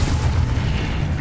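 Forceful Depulso spell impact from Hogwarts Legacy, a dense low boom with a short crackling burst, loud and close, standing alone without talk.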